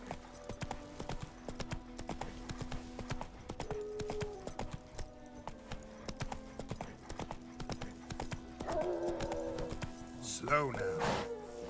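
Hooves of the horse Roach galloping in The Witcher 3 on PS5, a steady rhythmic clip-clop throughout with game music and voices over it, and a brief whinny near the end.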